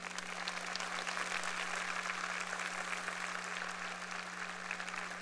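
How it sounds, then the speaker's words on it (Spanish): Steady applause from a church congregation during a service, a continuous dense patter of many hands filling the room at moderate level without voices on top. "Denle un aplauso a todos los que están aquí."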